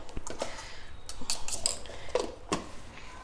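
A spoon stirs and beats set curd with a pinch of pink Himalayan salt in a bowl, giving scattered clinks and scraping taps against the dish over a few seconds, close and fairly quiet.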